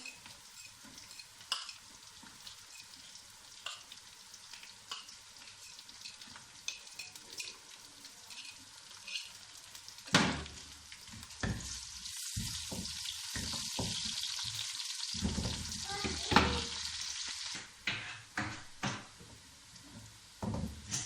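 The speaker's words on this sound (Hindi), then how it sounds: "प्याज हमारे फ्राई हो चुके हैं।" Onions sizzle steadily in a hot pan, with occasional stirring scrapes and clatters growing busier partway through; no talking.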